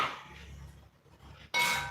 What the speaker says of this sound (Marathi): बटाटा टाकून घेतला.